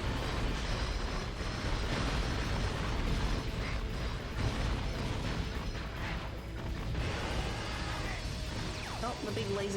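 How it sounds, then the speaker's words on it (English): Explosions and mechanical clanks from the PS2 game Ratchet & Clank 3 during a boss fight, a dense continuous wall of booms and metallic clatter with no pauses. "Expect to see lots of explosions"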